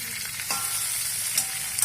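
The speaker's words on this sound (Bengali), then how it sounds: "দিয়ে এটাকে গ্যাসের ফ্লেমটাকে একটু বাড়িয়ে দিয়ে এটাকে ভালো করে ভেজে নেব" Potatoes seasoned with salt and turmeric frying over a raised gas flame, a loud steady sizzle with a brief stirring scrape partway through, no voices.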